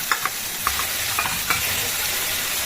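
Prawns sauté in hot oil with a steady close sizzle, broken by a few sharp clinks and scrapes of a spoon stirring the pan; no one speaks.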